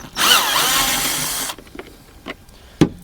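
A power drill backs out screws from the side cover under the seat of an MG4 car, giving one loud continuous whir for about a second and a half, followed by faint clicks and a sharp knock.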